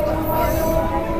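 Howrah-Bardhaman chord local train pulling out of Hajigarh station, a steady rumbling roar with a sustained tonal hum from motors and wheels, heard close from aboard the moving carriage.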